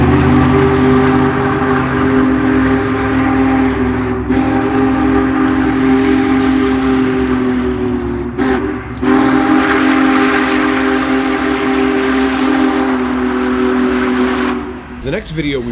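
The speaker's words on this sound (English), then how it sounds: "the best moment is the sound of that deep-throated whistle" The Big Boy steam locomotive sounds a deep-throated whistle in a long, loud sustained blast. It breaks briefly midway, then resumes and cuts off near the end.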